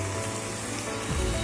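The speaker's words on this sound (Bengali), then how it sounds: "আমি এখানে পটল ভাজতেই চাপিয়ে দিচ্ছি" Slices of pointed gourd (potol) fry in a pan, giving a dense, close, continuous sizzle of hot oil that grows a little louder toward the end.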